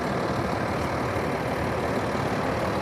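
Freightliner M2 106 truck with a Cummins L9 8.9-litre diesel idling, a steady, dense, loud rumble that stays constant throughout, with no voices.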